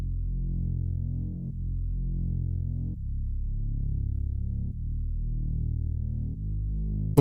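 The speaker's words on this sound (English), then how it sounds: "And then the last thing that I did is I added a sub bass." A sub bass one-shot from the Nebula one-shot kit plays a deep, sustained low line of several long held notes with changes in pitch, loud and alone with no voices.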